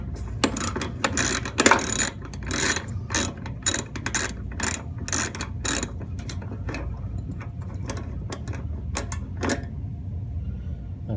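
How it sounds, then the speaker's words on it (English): A ratchet loosening the 3/8 idler pulley screw on a Kenmore dryer, bursts of rapid close clicking with pauses in between, then slower single clicks fading toward the end. "So to remove the idler pulley, I'm just going to take off this screw."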